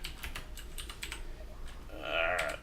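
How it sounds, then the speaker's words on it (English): A mechanical keyboard in a small recording studio clacks with quick, crisp keystrokes at a moderate distance, then falls quieter, followed by a brief tonal voice-like sound. "I only have the mechanical keyboard"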